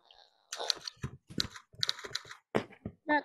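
Computer keyboard typing during a kids' coding class, a fast irregular burst of crisp clicks and clacks heard close and alone, with short pauses between keystroke clusters.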